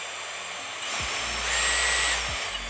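A Dyson Supersonic hair dryer fitted with its classic nozzle runs at minimum airflow on the hot setting, giving a steady high whine and airy hiss, with brief low thumps at the start and near the end.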